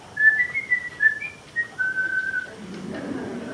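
A man whistles a family signal call: a short series of bright, clear two-tone notes and a longer sustained whistle, close and alone, imitating a reply whistle.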